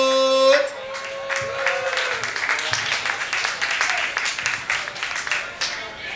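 Audience applause at a Miss Travestie Zuid Holland drag pageant in Rotterdam, a steady wash of many hands clapping that follows a brief tone at the start and carries on for several seconds.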